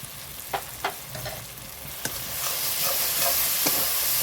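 Spices for chicken dopiyaza sauté in a pan, a constant close sizzle rising slightly louder toward the end, punctuated by a few sharp spoon taps and scrapes as they are stirred.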